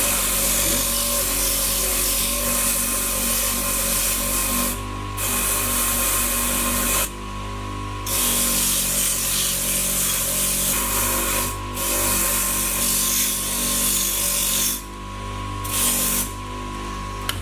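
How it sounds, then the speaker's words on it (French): Fine brush worked over a scratched brass Louis Vuitton lock during restoration and polishing, a steady broadband hiss that runs continuously with several short pauses, close and fairly loud. "on va prendre cette fois-ci une brosse plus fine, qui est ici, et on va cette fois-ci brosser de façon"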